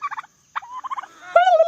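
Turkeys on a homestead give close, loud bursts of rapid gobbling, two quick rattling volleys separated by a short pause, ending in a longer, higher sustained call.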